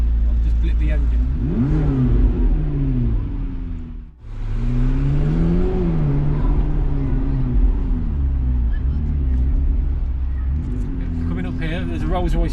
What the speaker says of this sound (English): I'll put it into neutral. I'll just blip the engine.